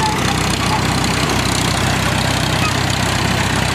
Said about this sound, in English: Her track tractor. It's a 1937 T20.